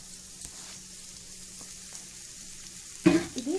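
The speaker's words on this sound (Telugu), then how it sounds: "మళ్ళీ కొంచెం లైట్గా ఆయిల్ వేద్దాం. వేసి ఉల్లిపాయ ముక్కలు," Onion pieces hit lightly oiled hot pan, breaking into a sudden, loud sizzle after a near-silent stretch with a few faint taps, then crackling and settling as they fry.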